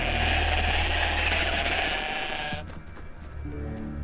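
Bighorn sheep bleat in a video game, with a loud, busy layer of game sound and music filling the first two and a half seconds before it drops away to quieter ambience.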